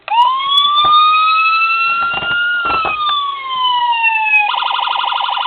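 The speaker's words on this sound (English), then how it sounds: "And then the button in front of that's your siren." An electronic siren on a 1:18 scale Crown Victoria police car model wails up and down, loud and close, then switches to a fast pulsing yelp tone.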